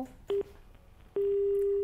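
A telephone line tone sounds after a dropped call during a live phone-in broadcast. A short steady beep is followed by a pause, then a longer continuous tone, loud and clear, with faint background hiss before it.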